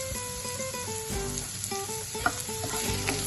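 Carrots with a teaspoon of sugar and a pinch of salt sizzle steadily in a pan while being stirred, with a continuous frying hiss and occasional soft scraping clinks close by, no voices.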